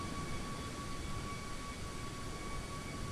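A320 airliner in Microsoft Flight Simulator, a steady broadband jet roar with a faint tonal whine, even and unbroken throughout.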